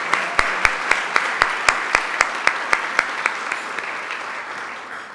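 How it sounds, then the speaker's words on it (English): Audience applause at an anniversary gala awards celebration, a steady wash of many hands with a few sharp louder claps standing out in a regular rhythm, sustained for several seconds in a large room. "That's okay, we can applause."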